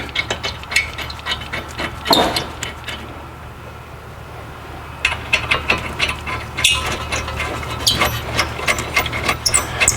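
Caliper bracket bolts on Hyundai Elantra front brakes are hand-threaded, giving irregular clicking, scraping metal taps and rattles close by, with a quiet pause midway before the ticking resumes.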